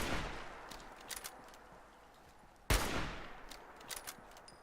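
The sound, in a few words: gunfire from enemies in Fallout 4 video game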